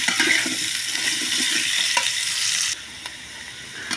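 Potatoes fry with salt in a pan, a loud continuous sizzle with stirring scrapes that abruptly drops to a quieter hiss near the end.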